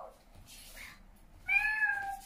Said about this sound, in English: she will meow like a cat.